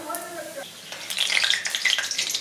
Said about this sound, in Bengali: ফোড়নটা দিয়ে নিচ্ছি